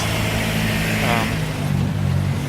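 Steady low rumble of street traffic, engines droning close by with a passing vehicle swelling briefly, continuous throughout.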